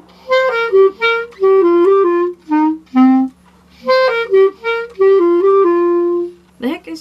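A single woodwind plays two bars of a song as a melodic phrase of separate sustained notes with short gaps, clear and close with no talking.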